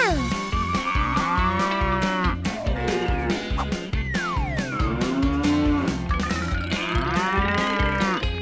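Cow mooing on a dairy farm, where milk is bought: several drawn-out moos with sliding pitch, loud and close, layered over busy, continuous background music with no pauses.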